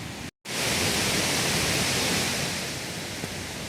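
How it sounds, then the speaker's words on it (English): Rainwater rushes down a flooded hiking trail at Kalalau after a flash flood, a loud, continuous broadband hiss that cuts out for a split second near the start and then pours on unbroken. "As you can see, there's water running right down the trail."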